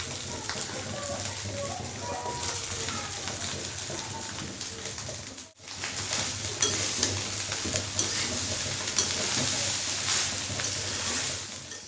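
Rice stir-frying with egg, tomato and soy sauce in a pan, a constant close sizzle with busy scraping and stirring strokes, briefly cutting out midway before resuming at the same level.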